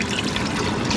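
Water pours steadily into a pot on a stove to make pickling brine, a continuous close splashing and rushing fill sound lasting the whole moment.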